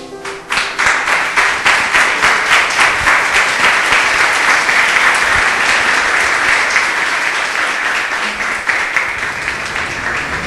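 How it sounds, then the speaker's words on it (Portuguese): A church congregation applauds after a sermon, loud sustained clapping with audible individual claps in a brisk rhythm throughout, tapering slightly toward the end. "palmas para o Senhor"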